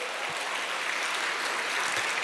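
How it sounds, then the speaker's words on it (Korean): An audience at a company presentation gives steady, close applause, a dense wash of clapping that holds for the whole two seconds with no voices over it. "박수 보내주세요."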